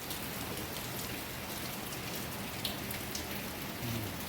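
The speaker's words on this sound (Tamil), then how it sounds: "ஹெவி ரெயின், சொல்ல முடியாத மழை" Heavy rain pours down with wind in a steady, dense, loud hiss, without a break and with no voices.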